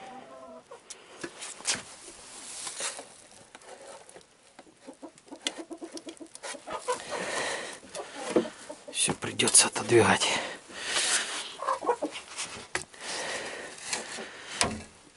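Chickens cluck and fuss nearby while a person speaks over them, with rustling and scratching noises scattered throughout.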